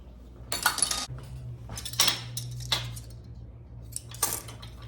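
A spoon scrapes and clinks against a bowl while all-purpose King Arthur flour and a teaspoon of salt are stirred together, giving four separate bursts of clatter over a low steady hum, close and fairly loud.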